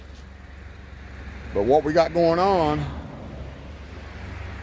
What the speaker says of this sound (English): sorry about the road noise, man.